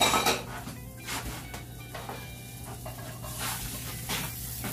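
A fried egg is dished up from a frying pan, with scraping and clinks of utensil against pan under a faint sizzle, several short knocks across a few seconds, no talking.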